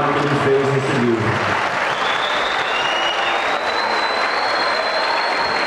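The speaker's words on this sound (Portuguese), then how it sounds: "eu queria pedir aqui uma salva de palmas para o Rami" Sustained audience applause at an evening tribute ceremony for Rami, the author of a book, with a brief raised voice at the start and steady clapping throughout.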